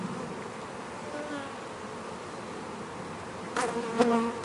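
Close, steady buzzing of many honey bees around an open hive, with a few louder bees zipping past near the end.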